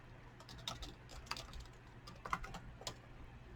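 Steady light typing on a computer keyboard, close and quiet, with irregular bursts of soft key clicks and no voices.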